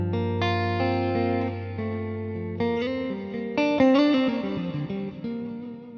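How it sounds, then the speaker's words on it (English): Electric guitar played through a Boss Blues Driver overdrive and Boss IR-2 amp and cabinet simulator, then into stereo delay and reverb: sustained chords and single-note lines ring out with warm grit and a trailing echo, loud and continuous with no talking. "I'm just using, as I said, blues driver into amp and cabinet, and that's all in mono going into the stereo delay and reverb"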